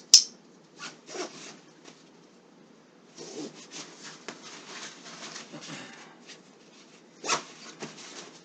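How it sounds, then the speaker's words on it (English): Straps and buckles on a packed backpack being fastened, with scattered rubbing, scraping clicks and fabric rustles in short bursts, a sharp snap near the start and another around seven seconds, all close and fairly quiet. "Buckle up the buckle."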